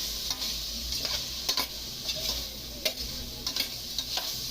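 A sauté of sweet potato and cabbage is stirred in a pan, sending a steady sizzle through a string of brief utensil scrapes and taps spread irregularly across the clip, with no voices.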